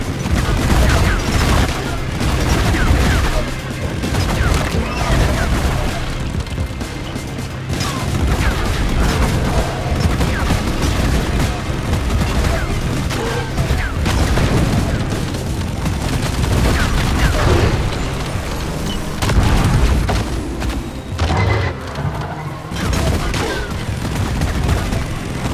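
Rapid gunfire from a badly inaccurate gun in a video game, shots crackling in dense overlapping bursts almost without pause, loud and close over a heavy low rumble of in-game booms.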